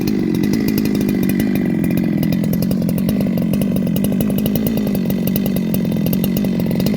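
A chainsaw fitted with a shotgun-style muffler runs close and loud, its engine buzzing with a raw, rapid, steady pulse and no letup throughout.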